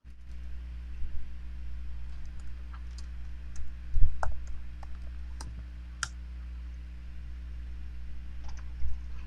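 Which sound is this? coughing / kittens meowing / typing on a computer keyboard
typing on a computer keyboard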